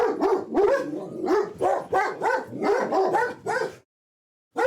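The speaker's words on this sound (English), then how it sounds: "What are you barking?" Several dogs barking and yipping in quick, overlapping bursts close by, the barking stopping abruptly before a brief silence and one more bark.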